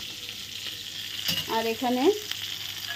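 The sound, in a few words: pointed gourd (potol) frying in pan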